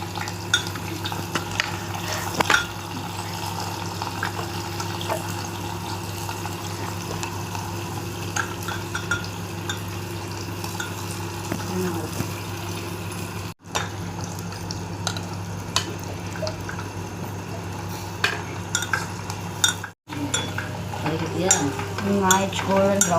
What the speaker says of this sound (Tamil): கடல் பாசி, அன்னாச்சி பூ, பட்டை, கிராம்பு, முந்திரி, பெருஞ்சீரகம் எல்லாத்தையும் உள்ள போட்டுக்கலாம். வதக்கிக்கலாம் நல்லா.